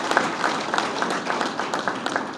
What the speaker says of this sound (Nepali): हाम्रो क्रिकेट टिम लगायत नेपाली क्रिकेटले यहाँसम्म पुर्याउनु हुने सम्पूर्ण हाम्रो स्टेक होल्डर्सको लागि चाहिँ हृदयदेखि नै ताली बजाइदिनु हुन म हार्दिक अनुरोध गर्न चाहन्छु